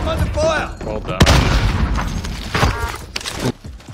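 Gunfire and booming impacts in Call of Duty: Warzone Pacific, a sharp loud blast followed by further bangs, mixed under excited talking from players.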